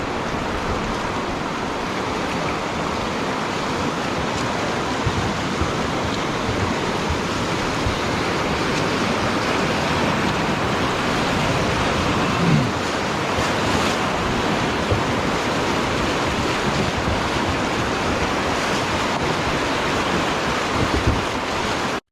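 Whitewater creek in Alaska rushing steadily during a boat float, a dense continuous roar of churning water with wind buffeting the microphone, no voices throughout.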